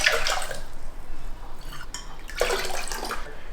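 Fresh water poured into a pickling liquid of apple cider vinegar, a steady broadband splashing pour in two bursts with a short pause between, close and moderately loud.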